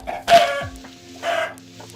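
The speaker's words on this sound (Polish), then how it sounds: "Kurczak, ej, ej, kurczak." A chicken in the Minecraft video game gives a couple of short clucking calls, separated by a brief gap and heard clearly over a low steady game background.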